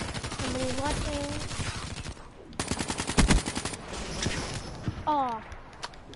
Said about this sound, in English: Died from a sniper.